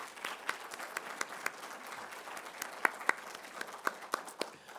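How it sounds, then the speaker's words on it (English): A small lecture audience at a contemporary Chickasaw art exhibition gives a brief round of applause, sparse distinct claps ringing out in a quiet room, fairly close and moderately soft. "So I would like you to thank them by a brief round of applause."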